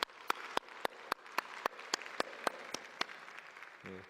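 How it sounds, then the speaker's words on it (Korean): A Korean church congregation at a Sunday service in Vancouver claps in a steady, evenly spaced rhythm, each clap sharp and distinct, ending with a brief low murmur. "우리 격려의 박수 한번 드리겠습니다."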